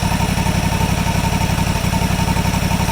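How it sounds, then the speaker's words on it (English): A John Deere GT235 lawn tractor engine idles cold with the throttle plate pushed against its stop screw, a steady low, even chugging throb running alone and close, settling slightly slower. "If I sit here and I push this throttle plate tight up against so it bottoms out on this screw, you'll hear it slow down a little bit."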